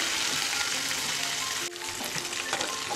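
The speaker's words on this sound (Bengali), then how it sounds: "মেথি শাকটা একটু আমি ভালো করে একটু ভেজে নেবো, যাতে আমাদের এটা ফ্লেভারটা পুরো তেলের মধ্যে চলে যায়" Fresh fenugreek leaves fry in hot oil with a continuous close crackling sizzle, broken by a brief dip as they are stirred, then popping on.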